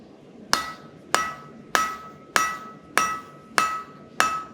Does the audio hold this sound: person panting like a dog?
no